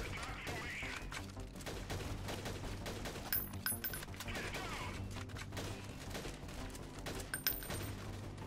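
Gunfire from a weapon in the video game Freeman: Guerrilla Warfare rattles in bursts of shots with clinking and impact clatter, steady and fairly loud throughout.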